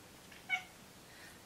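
A cat gives a short, faint meow, then a second brief call starts at the very end, in a quiet room.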